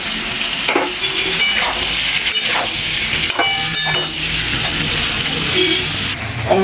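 Potatoes and jackfruit frying in a pan for a jackfruit and prawn dish, a steady loud sizzle with scattered crackles and a few scraping stirs, no voices.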